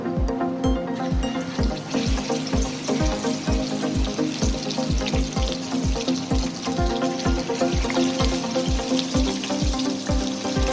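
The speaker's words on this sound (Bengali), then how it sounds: "তেলটা ভালো মতো গরম হয়ে গেছে। এবারে এর মধ্যে আমি একে একে মাছ ছেড়ে দেব।" Rohu fish dropped into hot mustard oil, a steady loud sizzle and crackle of frying, with a regular low thumping pulse running underneath throughout.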